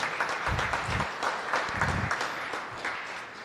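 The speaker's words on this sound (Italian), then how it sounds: "Direi un applauso al nostro Presidente nazionale." Audience at a bocce raffa championship event applauding their national president, a dense steady round of clapping from a sizable crowd, fairly loud and sustained with slight swells.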